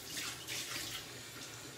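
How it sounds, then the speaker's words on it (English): Greasy hands being washed under a running kitchen tap, a soft steady stream of water splashing into a sink, quiet and close with no talking. "I just wash my hands of fat"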